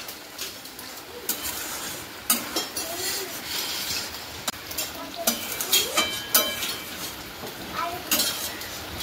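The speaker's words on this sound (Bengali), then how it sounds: "এবার ভালো করে নেড়ে নেব।" A spoon stirs ridge gourd and potato with poppy seed paste in a pan, making scattered scraping clinks against the metal over a soft background sizzle.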